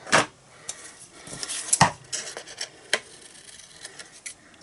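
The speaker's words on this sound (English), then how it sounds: "I'm just going to cut off the overhang" Scissors trimming card stock overhang while making a potted geranium birthday card: a few sharp, close snips and scrapes at irregular intervals with no talking.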